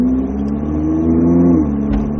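A Ferrari 458 sports car holds a loud, steady mid-pitched engine drone on a race track, rising slightly in pitch before easing off as the throttle lifts, heard close with no talking.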